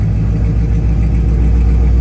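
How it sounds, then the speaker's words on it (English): A car engine idles low and steady right after a cold start, fitted with a ported manifold and tune. A continuous deep rumble carries through the whole stretch with no voices. "Low idle though. Yeah, I don't like how low it's idling."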